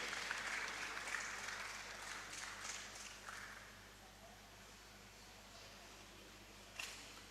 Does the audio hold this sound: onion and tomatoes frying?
no